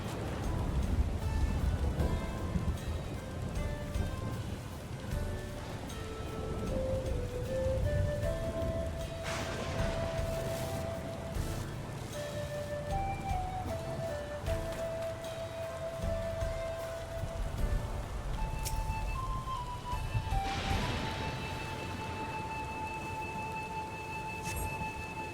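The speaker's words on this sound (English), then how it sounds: "Surprised to get rain here with this dome in the way." Steady rain falls in a video game town beneath a dome, a soft continuous patter with occasional brighter tones drifting over it.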